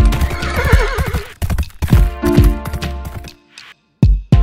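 Horse whinnying loudly and close, with a wavering neigh and clip-clopping hooves, then a short silence and another burst of hoof and whinny sounds.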